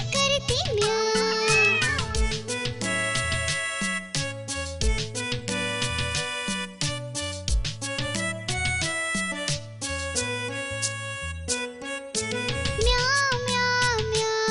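A singing voice imitates a cat's meow again and again in a bouncy Hindi children's rhyme, set over a loud, busy musical backing.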